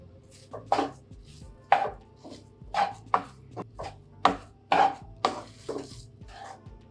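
Coconut laddu mixture with cardamom powder being stirred in a pan, giving a rhythmic series of sharp knocks and scrapes about once or twice a second, close and fairly loud.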